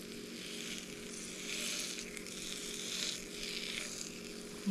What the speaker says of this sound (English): I can unquestionably hear these cooking already.